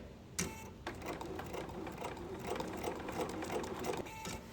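A computerized quilting sewing machine with a laser guide stitches an Allium quilt block, a steady rapid mechanical whirr and clatter running continuously at close range after a brief start.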